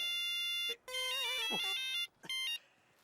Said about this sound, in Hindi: ये आज शादी की शहनाई फोन के रिंग के जैसे क्यों बज रही है?